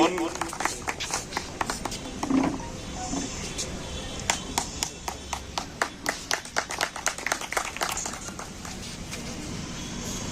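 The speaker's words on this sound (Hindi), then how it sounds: "बहुत श्री सुमेरदान जी चारण का स्वागत किया, जोरदार तालियां।" Scattered hand claps from a crowd at an awards ceremony for COVID-19 frontline workers, a burst of applause with sharp individual claps over a murmur of background voices and room noise.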